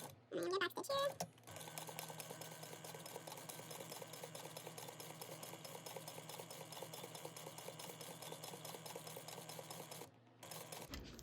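A sewing machine stitching around the fabric panels of a Hello Kitty bag, a fast steady mechanical whir running for most of the clip after a brief voice at the start, pausing briefly near the end.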